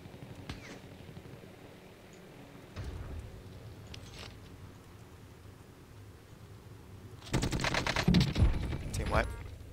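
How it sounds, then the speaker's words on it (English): Gunshots in a battle royale video game, faint and distant at first, then a louder cluster of rapid shots near the end, with a person talking over the quiet game sound. "there's shots from where that guy landed"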